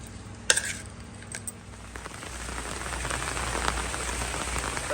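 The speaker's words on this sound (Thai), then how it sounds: "ฝนทั้งคืนเลย" Steady rain falling through a wet night in rural Isan, Thailand, a dense hiss of drops on surfaces that thickens and grows louder after the first couple of seconds, with a few sharper taps early on and no voices.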